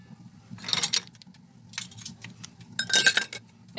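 Metal lid placed over a pot of boiling beef shanks for apfritada: a few bright metallic clinks and rattles in short clusters, close and moderately loud over a low steady simmering hum.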